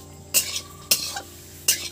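Three scraping stirs of a spoon in a pot of chicken soup, each a short bright scrape spaced about half a second apart, close up with no talk.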